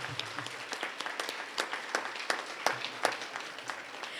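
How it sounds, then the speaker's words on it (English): Applause from an audience at a school awards ceremony, a steady crowd of hands clapping at moderate distance, with a few louder individual claps near the end. "I'd like to give another big round of applause to all of our students"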